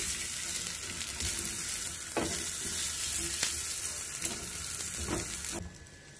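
Onions sizzle steadily in a hot grill pan while hotdogs cook in an ordinary home kitchen, a continuous frying hiss broken by a few soft stirring knocks, close and even before it drops away at the end.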